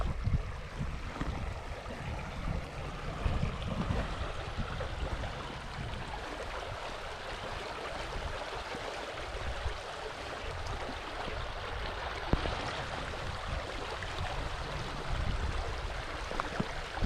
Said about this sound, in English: And the sound as it trickles over the rocks.